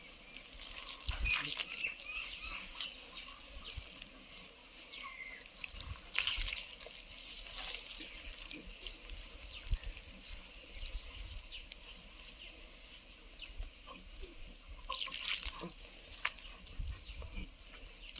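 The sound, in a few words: water being poured while making dough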